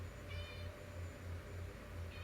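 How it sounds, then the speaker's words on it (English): A pet cat meowing indoors, a short high call at the start and another near the end, faint against a steady low hum and background noise. "I don't even have to look down to know who is meowing. I know my kitty's meows."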